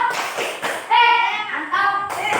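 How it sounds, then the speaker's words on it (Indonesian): A class of schoolchildren does a rhythmic 'tepuk mantap' clap routine for a classmate, sharp claps and thumps mixed with children chanting in unison, fairly loud and close. "Ya, tepuk mantap buat Iki"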